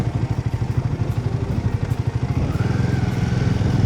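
A motorcycle on a high mountain road in the Zanskar Valley of the Himalayas, its engine giving a steady, close, throbbing low rumble for the whole stretch, with no talking.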